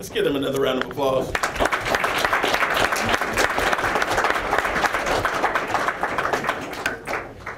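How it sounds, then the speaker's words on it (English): Audience at a city commission meeting breaks into sustained applause, dense steady clapping that fills the whole stretch after a brief spoken moment at the start, with scattered voices mixed in. "Let's give them another round of applause."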